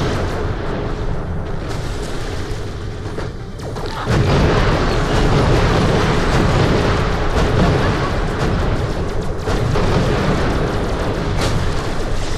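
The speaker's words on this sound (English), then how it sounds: "Yeah, that was some pretty good explosion." Heavy video game explosions boom and roar almost without a break, very loud and close, with a dense rumbling wash that swells sharply a few seconds in and stays thick to the end.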